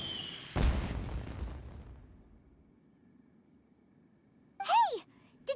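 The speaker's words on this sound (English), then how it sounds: "Did you hear that explosion? Maybe it was fireworks." A single loud explosion bursts in Genshin Impact near the start of the clip, a short broadband boom with a rumbling tail, followed by quiet ambience and a brief whooshing magical effect later.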